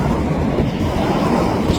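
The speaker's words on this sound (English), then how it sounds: "Just trying to capture that shops train" A shops train rolls past on the rails, its rumble and wheel noise loud, close and continuous across the whole stretch.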